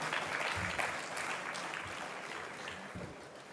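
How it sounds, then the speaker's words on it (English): Conference attendees applaud a speaker being introduced at a talk on real estate portal business models, producing a soft, steady wash of clapping heard from a distance that slowly tapers off. "sous vos applaudissements"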